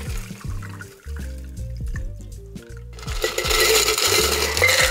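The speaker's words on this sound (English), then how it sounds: "We're going to fine strain this now." A tequila cocktail is fine strained into a coupe glass, producing close, quiet liquid trickles, drips and small splashes that build into a fuller, steadier pour near the end.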